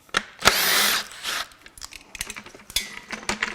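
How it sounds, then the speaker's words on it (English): Power tool ratcheting and whirring in short bursts while unbolting a part on a 2021 Subaru WRX FA20DIT engine that suffered catastrophic failure at 95K miles, close and fairly loud, with clanks of loose hardware between bursts. "we're gonna get that unbolted."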